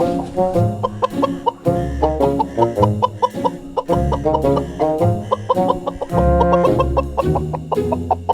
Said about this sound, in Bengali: এই গোপাল, তুই আবার আমার মুরগি ধরছিস?